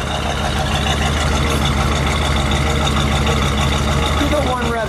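A 1967 Buick GS 400 Sport Coupe V8 idles steadily nearby, a loud even lumpy rumble, with someone speaking over it.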